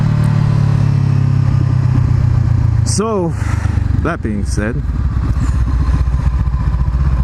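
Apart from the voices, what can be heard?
Honda CBR500R motorcycle with Two Brothers exhaust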